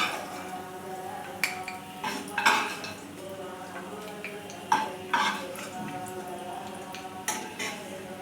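Dough pieces fry in a pan for a Vinayaka Chaturthi sweet, with intermittent utensil scrapes and clatters over a faint, steady sizzle and a soft tonal hum in the background.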